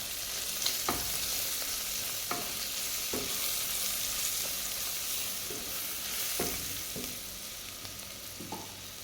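Vegetables fry with turmeric powder in a pan for a restaurant-style veg pulav, giving a steady close sizzle broken every second or two by sharp spoon scrapes and taps as the mix is stirred.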